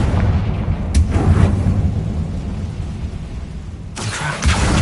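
Confringo blasting curse in Hogwarts Legacy, a deep booming explosion with a rumbling low tail, followed by a second sharp blast near the end, loud and close.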